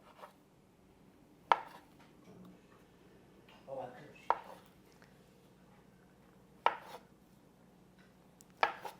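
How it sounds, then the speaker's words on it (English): A knife slices rolled protein noodles into fettuccine on a cutting board. Four sharp, separate chops fall a couple of seconds apart, close and crisp, with soft handling noises between them. "You're gonna roll them up, and then slice them into noodles"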